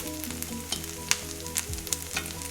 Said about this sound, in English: I'm just going to drizzle a dot of ghee over each spot now, so ulti side one will be cooked properly